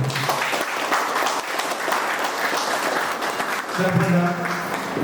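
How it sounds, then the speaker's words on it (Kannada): A crowd at a Bunts Sangha Dombivli blood donation camp gives loud, sustained clapping that swells near the end, with a voice briefly audible over the applause. "ಜೋರಾದ ಒಂದು ಚಪ್ಪಾಳೆ"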